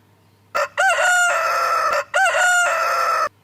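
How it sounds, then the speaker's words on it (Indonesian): A rooster crows twice in a row, each loud, drawn-out call preceded by a short clipped note, close to the listener with no talk. "itu adalah suara ayam berkokok."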